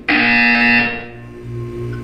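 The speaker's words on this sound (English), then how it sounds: "You will hear a buzzer." A harsh electronic buzzer from the video game Portal 2 blares loudly for about a second, then gives way to a lower humming tone, with no voices.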